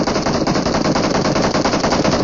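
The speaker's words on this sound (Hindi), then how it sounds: "इतनी देर में मेरे टीममेट का अच्छा खासा कवर फायर आया था" Teammate cover fire in the mobile game PUBG Mobile, one unbroken stream of rapid automatic gunshots, loud and close, firing at an even, fast rhythm throughout with no pauses or talking.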